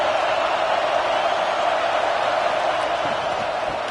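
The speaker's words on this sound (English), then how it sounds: "This crowd bringing the energy and noise early." A dense, steady roar of a large simulated stadium crowd in the College Football 26 video game at Northwestern vs Oregon, loud and continuous without distinct voices standing out.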